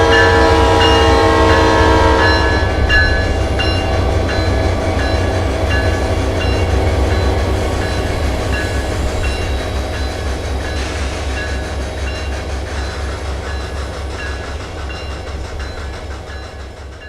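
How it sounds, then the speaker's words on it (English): BNSF SD40-2 diesel locomotives rumble loudly while moving steam locomotive 611 to Winston Yard, with a horn blast at the start, then a steady engine drone and rolling rail noise slowly fading into the distance. "BNSF SD40-2s number 1904 and 1735 moved 611 to Winston Yard to begin preparations for its trip"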